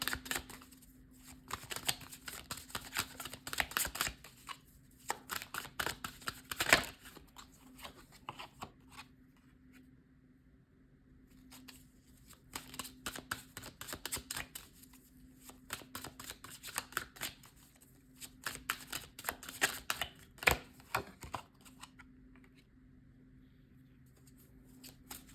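Tarot cards being shuffled and drawn by hand, in repeated bursts of crisp riffling and slapping separated by brief quiet pauses, fairly close and with no talking.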